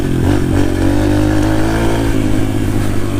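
A dirt bike engine revs loud and close on a motocross track, a steady buzzing drone with slight throttle swells throughout.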